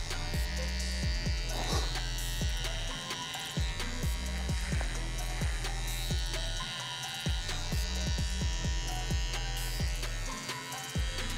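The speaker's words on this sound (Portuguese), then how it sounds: "Venho limpando aqui suavemente com a máquina de acabamento." A finishing hair trimmer buzzes steadily and close up while tidying a fade on curly hair, with a continuous motor hum that throbs rhythmically as the clippers move across the head.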